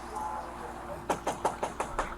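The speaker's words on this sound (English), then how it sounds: "After a full 3 minutes of knocking, the police finally get a response from inside." Police rap on a door in a quick run of about six firm knocks, heard over a low background hum and faint music.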